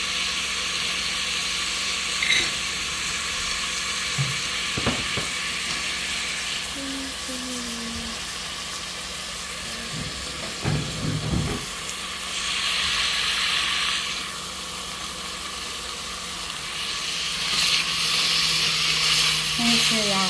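Onion frying in a pan with ham hock for a Hungarian-style green bean stew: a steady, close hiss of sizzling oil with a few soft knocks of utensils.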